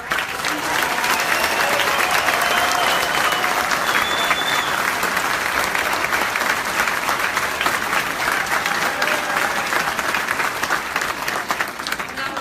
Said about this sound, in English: And let's give a huge round of applause to all of our four.